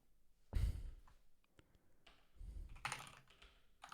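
Keys clacking on a computer keyboard in quick irregular bursts, close and fairly quiet, with a soft exhaled sigh in between.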